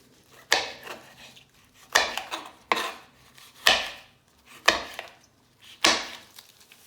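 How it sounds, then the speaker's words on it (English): A knife chops chillies, garlic and ginger on a wooden board in spaced, sharp strokes, some with quick follow-up taps, close by with brief pauses between cuts. "chopping the chilies into small pieces together with the garlic and ginger"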